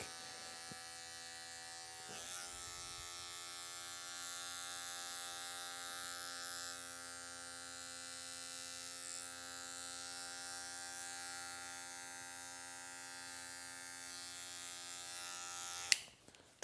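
Electric hair clippers run steadily with a continuous, close buzzing hum while trimming hair and a beard, holding an even drone for the whole stretch before cutting off abruptly near the end.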